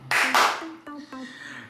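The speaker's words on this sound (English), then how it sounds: "Why did I clap just now?" Two sharp hand claps ring out close and loud, with a voice speaking briefly around them.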